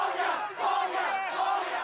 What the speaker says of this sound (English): Shouts of "release them" were heard from the crowds.